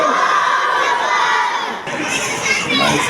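Crowd of children at a madrasa loudly shouting patriotic slogans in unison, a dense, continuous chorus of voices close by with a brief dip before the chant swells again.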